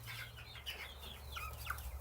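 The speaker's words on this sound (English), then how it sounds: "Because I don't want to stress out my chickens." Backyard chickens clucking softly in a few short, rising calls over a low steady hum, fairly faint and close, with no voices.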